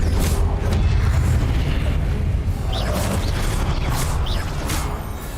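Sustained fiery roar from the Incendio fire spell in Hogwarts Legacy, a dense, loud rumbling whoosh with crackling bursts that holds steady for several seconds, then eases off toward the end.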